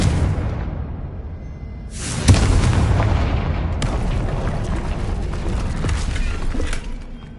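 Bombarda and Confringo explosion spells in a Harry Potter video game: a loud, close blast erupts suddenly, followed by rumbling booms and further crackling detonations over a sustained low roar before it cuts off.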